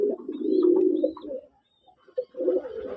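Pigeons, including a red and white Bombay bird, coo at close range in a loft in Manikganj after their afternoon feed: a run of throaty coos, a brief pause, then more cooing.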